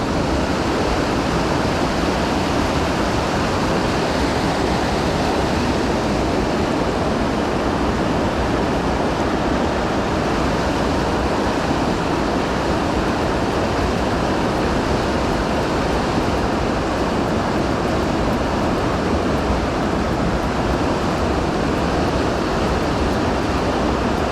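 Water rushing loudly and steadily, a dense unbroken roar like a torrent or falls close by, constant throughout with no voices.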